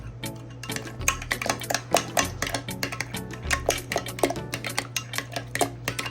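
Repeated clinks and scraping of a utensil against a bowl as chicken taco ingredients are stirred together, close and steady, with a low hum underneath and no talking.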